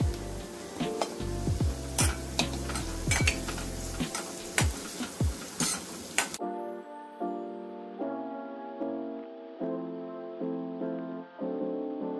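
Curry leaves and green chillies sizzle and crackle in hot oil for several seconds, with sharp pops and spatters, followed by softer clinks and taps of a pan.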